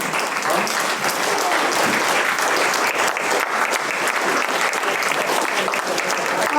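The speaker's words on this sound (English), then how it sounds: "You want to get a little applause from the public again?" Steady, dense audience applause at a community gathering of older performers, many hands clapping continuously and evenly throughout at a full, close level.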